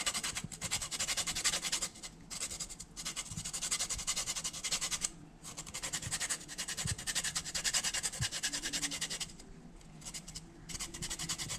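Lime rind is grated against a grater for a Jamaican fruit cake, a steady close rhythmic scratching that runs almost continuously with brief pauses.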